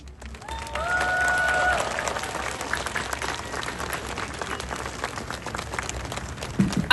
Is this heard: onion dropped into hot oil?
no